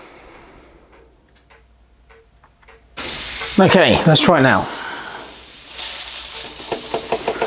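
A Cooper Brothers Model 2508 model steam engine hisses loudly and steadily after a quiet start, with rhythmic puffing chuffs building near the end; a voice speaks briefly before the hiss.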